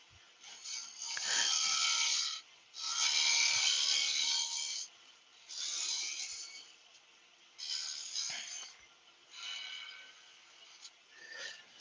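A long-handled chisel or gouge shapes a wooden earring stand in five long, steady scraping passes, each a loud hissing rasp separated by brief quiet gaps.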